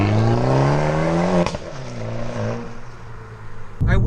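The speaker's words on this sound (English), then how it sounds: "And the exhaust system just sounds fantastic." A Fiat 500 Abarth with its exhaust system revs loudly and close, the engine note climbing steadily, dropping briefly, then holding a lower drone before a final burst at the end.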